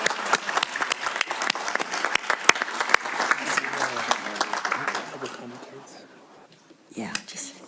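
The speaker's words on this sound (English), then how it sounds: "I'd like one more round of applause to the veteran students" Scattered hand claps from a small audience at a board of trustees meeting honour veteran students, crisp and individual at first, then thinning and fading out, with quiet voices near the end.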